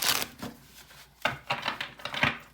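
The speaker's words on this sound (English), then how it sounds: "So I'm just gonna give it one last shuffle here." Tarot cards shuffled by hand in a few soft papery bursts with gaps between them, fairly close and quiet, with no talking over them.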